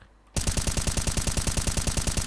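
Rapid automatic fire from an M4 rifle in Counter-Strike 2, a long unbroken burst of evenly spaced loud shots that starts abruptly after a brief quiet moment and carries on to the end.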